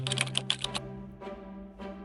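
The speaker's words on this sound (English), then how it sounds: "I can type on the iPad using my laptop" Typing on a MacBook laptop keyboard connected to an iPad, heard as a quick burst of about six close, crisp key clicks followed by two slower, softer taps over a faint steady hum.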